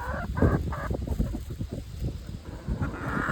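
A flock of chickens clucking and squawking close by while being offered an ear of corn on the cob, a busy run of short overlapping calls with some wind noise.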